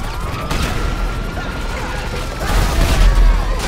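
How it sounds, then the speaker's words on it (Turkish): Rocket barrage in a GTA V Transformers mod featuring Optimus: a loud, dense rumble of blasts and crackling gunfire that swells into heavier booms toward the end. "Roket saldırısı Optimus."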